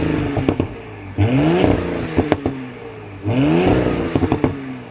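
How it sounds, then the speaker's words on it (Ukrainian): A 2017 Audi SQ5 engine is revved twice in quick succession, each blip climbing sharply and then falling back to a steady idle. Clicks and clatter sit between the revs, with no talking. "хочу вам показати те, щоб ви послухали шикарний звук мотора"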